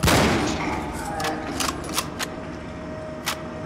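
Gunfire in the video game Cryostasis, a loud burst at the start followed by several sharp shots at irregular intervals over a fading reverberant tail.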